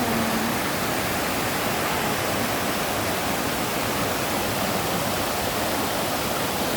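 The Mui Wo waterfalls pour steadily in light drizzle, a dense, even hiss of rushing water that holds at a constant level throughout with no talk over it.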